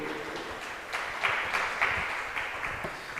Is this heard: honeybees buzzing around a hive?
no